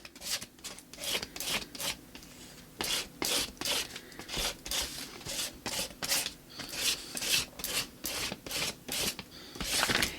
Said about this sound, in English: Continue to scrape. And the under layers are scraping away too.